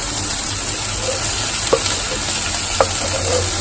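Bell pepper sizzles steadily in a hot pan with a constant hiss, a couple of sharp utensil knocks against the pan, no talking.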